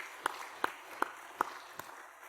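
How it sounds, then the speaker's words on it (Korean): A few sharp, evenly spaced claps in a church congregation during a Sunday worship service, five distinct hand strikes in a steady rhythm, fairly quiet with no talking. "우리 박수 한번 보내줍시다"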